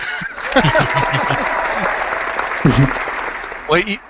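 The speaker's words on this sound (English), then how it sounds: "And Nate, cue up the applause, Nate." Canned applause plays on a veterans' talk radio show, a steady wash of clapping lasting several seconds, with honk-like whoops and voices rising over it near the start and again at the end.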